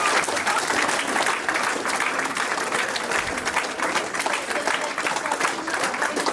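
Warm audience applause for a women in sport panel at a football event, dense and steady clapping filling the room throughout with a slight crowd murmur.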